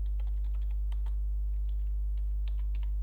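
Keys on a computer keyboard clatter in a quick, steady stream of light clicks while a command is typed, heard close and alone over a constant low electrical hum.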